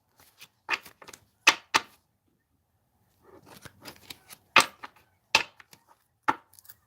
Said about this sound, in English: One more shuffle, and I'll lay out the cards.